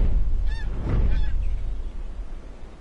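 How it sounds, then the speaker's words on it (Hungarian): Canada goose honking in a hunting video game, Hunting Simulator 2: a few nasal honks in quick succession over low rumbling ambience, fairly close and clear, with no talking. "Kanadai lúd."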